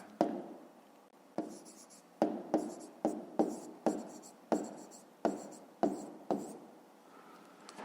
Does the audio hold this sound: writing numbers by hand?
yes